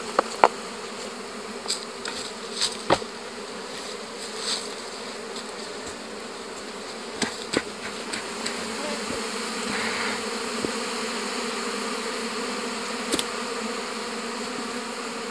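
Honeybees buzz steadily around hives whose honey supers are full, a dense continuous drone with scattered louder passes of individual bees flying close, and no talking.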